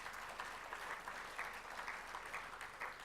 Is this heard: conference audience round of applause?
yes